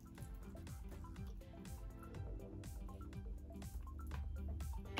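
Aztec clay mask powder and apple cider vinegar are stirred into a paste, making soft, wet, rhythmic squishing and clicking sounds that are faint and close.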